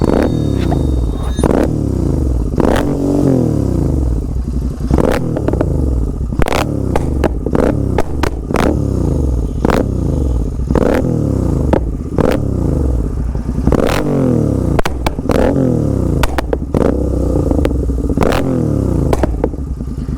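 A Royal Enfield GT650 twin-cylinder motorcycle from late 2023 revs continuously up close, its loud engine note punctuated by frequent sharp exhaust pops and crackles in bursts of three or four.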